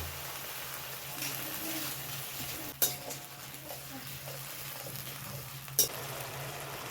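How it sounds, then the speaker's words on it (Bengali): Spices for a shol fish curry with kochu sizzle steadily in a pan as a splash of water goes in, a continuous frying hiss broken by two sharp spattering bursts. "মশলাগুলোকে ভালোভাবে কষানোর জন্য সামান্য পরিমাণে একটু জল দেব।"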